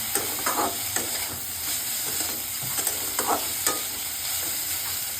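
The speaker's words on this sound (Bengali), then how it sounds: "গাজরটা দিয়ে সিম্পল সটেড" Sliced carrots with black pepper sauté in a pan, a steady close sizzle broken by occasional scraping stirs of a spatula.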